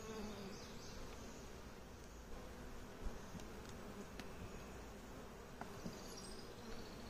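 A constant low buzzing hum of many honeybees, close and steady while a nuc is installed and a caged queen introduced, with faint occasional rustles and no talking.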